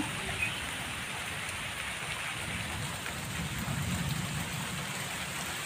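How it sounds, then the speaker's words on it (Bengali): Light rain after a storm patters steadily on holy basil leaves nearby, an even, moderate hiss of drops that keeps up without breaks. "বৃষ্টির ফোঁটাটা এখন খুব একটা বড় নয়, এই যে দেখুন রাম তুলসীর পাতাতে পড়েছে, হালকা হালকাই হচ্ছে"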